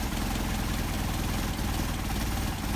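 An engine idling on Solex 44PHH carburetors, a steady, dense, close-up drone that holds an even rhythm throughout with no speech.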